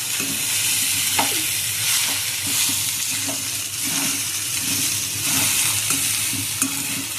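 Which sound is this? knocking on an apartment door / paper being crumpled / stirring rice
stirring rice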